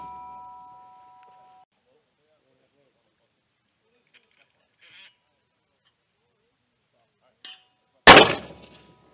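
An M252 81 mm mortar fires once during an infantry mortarman training course, a single sharp, loud broadband blast late in the clip that decays quickly. Fainter clanks come before it and brief talk opens the clip.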